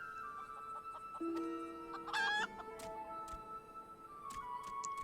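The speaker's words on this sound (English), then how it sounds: "Chicken." A chicken clucks and crows briefly in a fantasy video game, a short bright call rising over a steady bed of game music and ambience.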